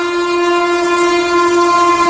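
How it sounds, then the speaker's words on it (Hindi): Tejas Express train rushing past at high speed near Etawah Junction, with a loud, sustained horn blaring steadily throughout over the rolling rumble of the passing train. "एक और देखिए तीव्र गति से आ रही है भाई ट्रेन"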